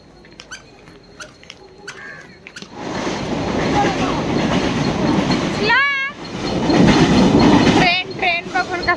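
A train passes close by on a morning family trip: a loud, sustained rumble and rattle of rail cars with sharp, high wheel squeals, following a quieter opening with light clicking and brief voices.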